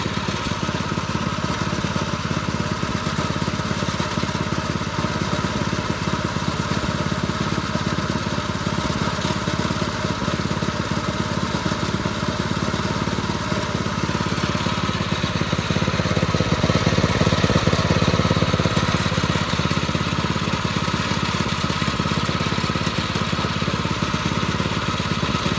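A pit bike engine with a freshly jetted VM22 clone carburetor runs steadily close by, a continuous buzzing drone that swells slightly near the end, with no voices over it.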